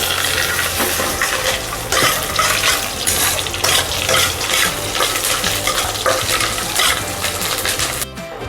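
Peanuts and green chilies fry in hot oil in a pan for vangibath, a dense, loud, close sizzle with rhythmic stirring scrapes pulsing throughout, cutting off abruptly at the end.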